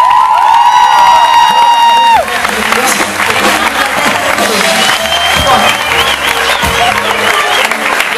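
A concert audience at a singer's live show applauding, with steady loud clapping and crowd noise that follows a sustained tone and continues under a busy mix.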